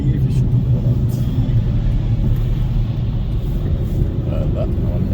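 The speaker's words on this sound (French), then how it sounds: "Un camion qui arrive, je peux ralentir." A truck approaching on Autoroute 40, heard from inside a car merging onto the highway: a loud, steady low road rumble and engine drone fills the whole stretch without a clear peak.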